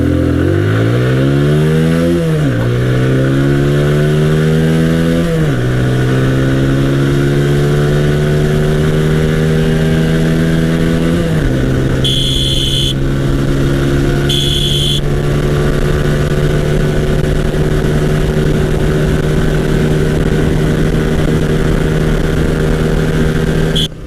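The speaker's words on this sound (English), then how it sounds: "So let's do a quick acceleration test of the Apache RTR 162V." A 2020 Apache RTR 160 2V motorcycle accelerates hard through its gears. The engine note climbs steeply and drops at each of several quick upshifts, then holds a long, loud, steady high drone with a faint chirp or two overhead.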